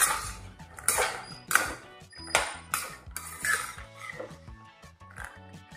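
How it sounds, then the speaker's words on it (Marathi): Cashews clatter and clink against a pan or utensil while roasting in ghee over a low flame, with a string of irregular knocks and scrapes close by. "हे काजू घालून घेत आहे आणि तुपामध्ये हे मंद आचेवर"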